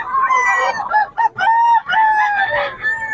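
A lemon sweater gamefowl rooster crows loudly and close, two long strained calls with a brief break between them, heard alone.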